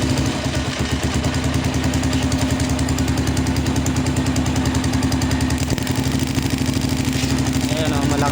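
Motorcycle engine with a spark plug fault, which cuts out at high revs, running loud and close in a steady rough idle with a dense throbbing pulse, and someone talking over it.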